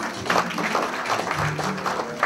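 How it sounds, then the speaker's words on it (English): Dinner guests applaud at a Surgical Society of Kenya fundraiser dinner during a cake cutting, a steady dense wash of clapping from a room full of people with some voices mixed in. "Another round of applause."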